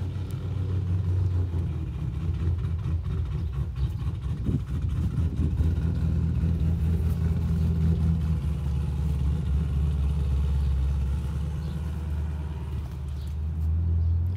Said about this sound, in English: the neighbour started up a real car. Listen to that.